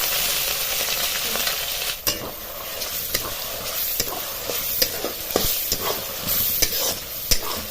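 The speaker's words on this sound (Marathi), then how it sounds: "म्हणजे वाटणी सारखं हलवीत राहायचं" Ground masala paste frying in oil for bazaar amti is stirred steadily, with a continuous close sizzle broken by repeated scrapes and taps of a spoon against the pan.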